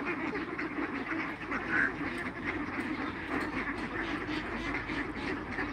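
A flock of ducks quacking at a farm in the Philippines, dense overlapping calls at moderate distance over a steady noisy background.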